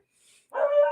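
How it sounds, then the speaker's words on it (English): A single short bark from a dog indoors during a live stream about sunstone, close and fairly loud, preceded by a faint breathy sound. "if you guys can hear her barking"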